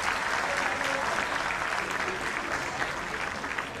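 Loud, dense applause from a large audience welcoming guests at the inauguration of a cancer super-specialty hospital centre, a continuous wash of clapping with no break.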